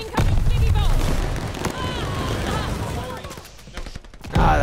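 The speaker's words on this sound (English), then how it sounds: "Ah, that grenade launcher." Grenade launcher fire in Call of Duty: Vanguard, with loud booming blasts and rapid gunfire across a chaotic battle, broad explosive bursts at start and end, and voices talking over the action.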